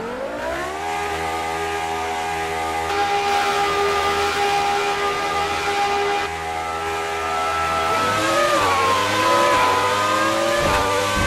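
Williams FW14B 1992 Formula One car in F1 2019 racing game at Bahrain qualifying, engine droning loud and steady at high revs, then pitch shifting and climbing through gear changes near the end, with no talk.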